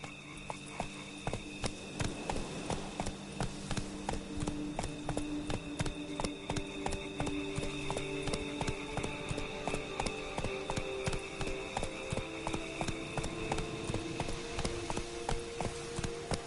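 Galloping hooves of Roach, a horse in a video game, clip-clop in a quick, steady rhythm throughout, close and fairly loud over a low ambient bed.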